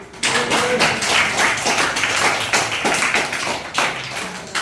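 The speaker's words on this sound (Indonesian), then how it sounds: "Kita tepuk tangan dulu." A class in a school mathematics lesson bursts into clapping, a close, brisk patter of hands that starts abruptly and carries on evenly for several seconds.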